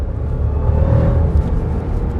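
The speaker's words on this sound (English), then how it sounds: "Can you hear the supercharger?" A Jeep Grand Cherokee Trackhawk pulls hard in sport and manual mode, its deep engine rumble steady and close from inside the cabin, with a faint high supercharger whine riding over the drone.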